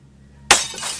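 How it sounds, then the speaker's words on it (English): A football hurled into a school window makes a sudden, loud glass shatter that hits at once and then trails into scattered tinkling shards, standing alone against quiet. "One of the football players accidentally threw the football at the school window and it shattered."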